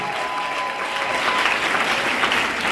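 A church congregation applauding at a prayer day, a dense, steady wash of clapping from many hands that fills the space evenly for a few seconds without a break.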